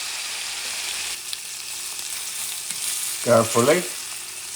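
Salmon steak searing in a hot pan, a steady loud sizzle throughout, with a short spoken word near the end over it.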